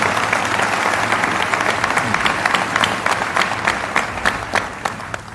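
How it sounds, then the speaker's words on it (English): Audience at a Nation of Islam gathering gives a warm round of applause, dense clapping with individual sharp claps standing out, loud and close, gradually tapering toward the end. "Let us give Minister Edward a warm and grateful round of applause."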